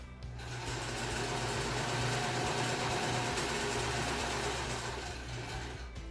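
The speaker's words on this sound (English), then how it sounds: "Now, we're gonna go around the pillow." A sewing machine stitches steadily around the edge of a fabric pillow, its motor whirring in a continuous close hum with the fast rattle of the needle and no pauses or speech.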